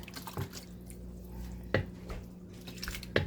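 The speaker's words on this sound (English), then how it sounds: "So I'm gonna add my coconut milk first" Coconut milk goes into a cooking pot for a pumpkin and mung bean dish as quiet, wet drips and plops, three or four distinct drops spaced over a low background hum, with no talk.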